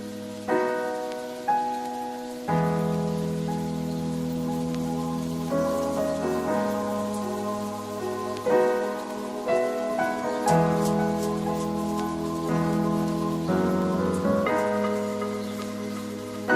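Rain falls steadily at an outdoor skate park, a continuous wash of drops on hard surfaces heard alongside sustained tonal, music-like sounds throughout.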